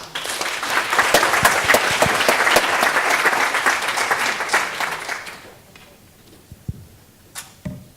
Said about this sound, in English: Round of applause for Daniel Beckton.